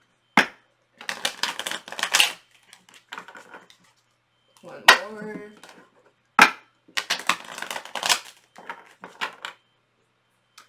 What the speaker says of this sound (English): Let me do a quick little shuffle real quick first.